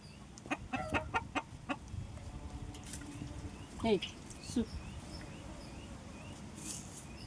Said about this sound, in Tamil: இந்த கோழிங்க பார்த்தீங்கன்னா பக்கத்தில் உட்காந்துக்கிட்டு